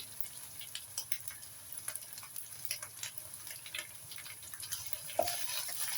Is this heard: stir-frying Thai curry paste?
yes